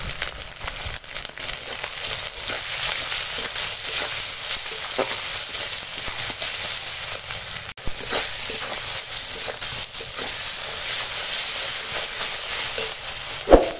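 Spice paste of ginger-garlic paste, turmeric, chili powder and salt frying in a pan for a fish curry, giving a loud, continuous close-up sizzle with occasional stirring scrapes and no talking.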